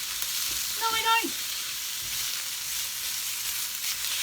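Beef tripe stir-frying in a hot pan gives a steady close sizzle and crackle throughout, with a brief clink of a utensil near the start.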